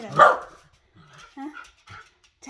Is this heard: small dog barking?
yes